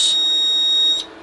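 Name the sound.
Kentec Syncro fire alarm panel buzzer sounding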